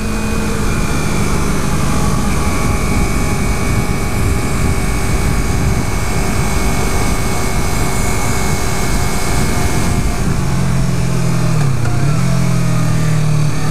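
A 2015 Yamaha R3 motorcycle engine drones loud and steady during a test ride, with rushing wind noise and gradual pitch shifts as the rpm changes, including a dip that fits engine braking.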